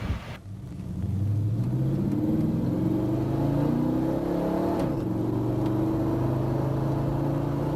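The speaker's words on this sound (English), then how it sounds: "Then try some upshifts at 3/4 throttle to see how the shifts get firmer with throttle." A car with a 4L60E automatic transmission accelerates at three-quarter throttle, its engine droning and rising steadily with rumbling, whirring tones through the shifts, heard from inside the vehicle without talk.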